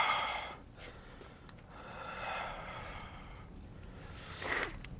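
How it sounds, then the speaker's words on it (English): Heavy, congested breathing through a blocked nose, close to the microphone, with a few snorting breaths that swell and fade over several seconds, including one sharper sniff near the end. "if you hear breathing and stuff like I said, I can't fucking breathe through my nose to save my life right now"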